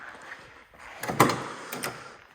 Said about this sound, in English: I'll open this door too.